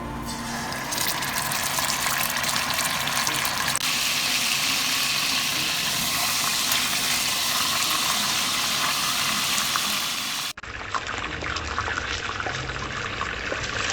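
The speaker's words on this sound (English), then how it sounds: "Add cooking oil to an already hot pot." Cooking oil heats in an already hot pot while a roast beef dinner is prepared, giving a steady, close sizzling hiss that runs throughout, with a brief break near the end before it continues.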